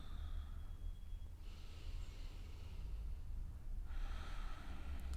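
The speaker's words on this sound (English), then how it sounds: "In this full belly breathing is how we find release for the nervous system." Slow, deep belly breathing during a calm yin yoga session, with soft airy inhales and exhales rising and fading in broad waves, close and quiet with no talking.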